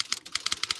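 Rapid keystrokes on a computer keyboard, about a dozen crisp clicks in quick uneven succession, close and clear with no talking.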